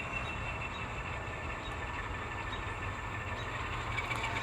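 An N scale model train locomotive runs with a steady low mechanical rumble and faint whirring, continuous and fairly quiet, with no voices.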